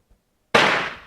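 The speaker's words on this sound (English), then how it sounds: "I'm going to shoot the target on the left." A single sharp rifle shot from a Mauser Colombian Model 1950 bolt-action cracks close by after a moment of quiet, its report trailing off over the following half second at an outdoor range.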